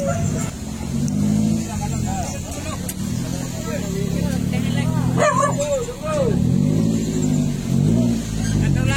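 Hunting dogs released from a vehicle in a busy parking area before a wild boar hunt, several dogs barking and yipping close by over a running engine that revs at moments, with people talking.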